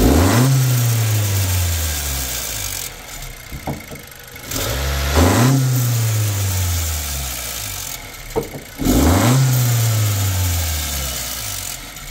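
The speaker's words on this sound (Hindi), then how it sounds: "सबसे पहले मैं गाड़ी को स्टार्ट करता हूँ" Honda Accord with a turbocharger underboost fault, started three times in a row. Each start gives a cranking burst, a sharp rev that sweeps down, then a steady idle. Loud and close, with no talk.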